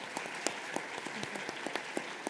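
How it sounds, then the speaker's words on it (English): Steady applause from a conference audience, dense clapping with a few sharper claps standing out, continuous and fairly even throughout. "Can we get a round of applause?"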